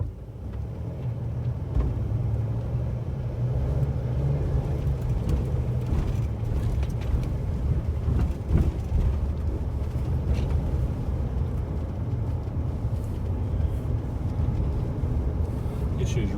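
A car driving along a desert road toward a ranch, a steady low engine and road rumble heard from inside the cabin, continuous throughout, with a person talking over it.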